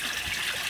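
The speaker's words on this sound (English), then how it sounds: "you can see the water draining out pretty fast" Water gushing out through an aquaponics bell siphon, a brief steady rushing drain sound, close and without talk.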